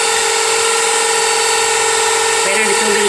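An electric hand mixer whips cream for homemade vanilla ice cream, a steady loud motor whine with a buzzing harmonic drone that shifts slightly near the end as speed changes.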